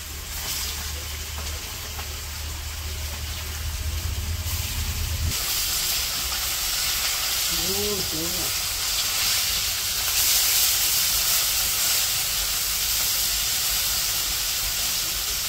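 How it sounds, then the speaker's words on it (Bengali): Turmeric- and chili-rubbed tilapia pieces frying in hot oil in a wok in a village kitchen, giving a loud, steady hiss and sizzle throughout, with a low rumble early on and a brief tonal squeal midway. "তো এই যে মাছ তো ভাজবো এখন"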